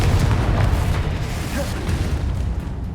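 A Confringo spell going off in Hogwarts Legacy on PS4: a heavy, rumbling blast with booming low thuds, a burst of crackle, and a fading roll of game effects.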